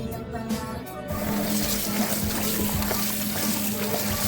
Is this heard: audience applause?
no